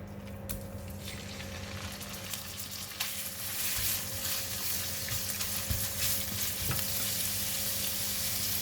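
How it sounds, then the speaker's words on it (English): Meat frying in a pan with garlic and oil gives a loud, continuous close-up sizzle that swells after the first few seconds, with scattered clinks and scrapes of stirring throughout and no voices. "we're going to fry the meat now"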